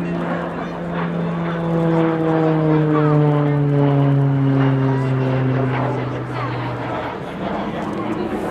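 A Shorts Tucano T1 turboprop trainer of the RAF flies past at the Cosford Airshow, a loud, steady propeller drone whose pitch slides gradually lower as it passes, then fades slightly.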